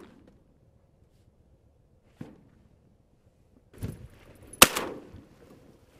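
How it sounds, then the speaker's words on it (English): Shotgun shots ring out during a duck hunt on Utah Lake in December: a faint distant pop, then closer blasts, with one sharp loud report near the end trailing off in the open air. "I'm shooting, hitting it."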